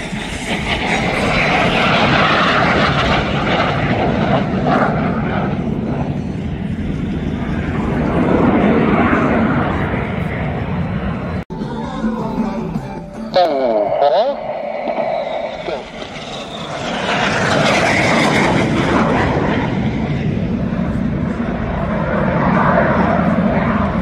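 Saudi Hawks display team jets pass at an airshow, a loud sustained roar that swells and fades as the aircraft sweep past, then builds again, with voices under the engine noise.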